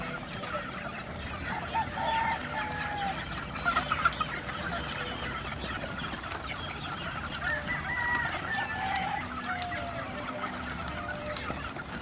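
A flock of chickens and chicks cluck and peep continuously, with overlapping calls and an occasional louder squawk over steady background noise.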